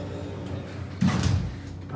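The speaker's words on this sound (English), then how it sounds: "Shut the doors." Kone elevator doors at a Dillard's department store in Florida Mall slide shut with a single soft, nearby mechanical thud and rumble lasting about half a second, set against quiet store ambience.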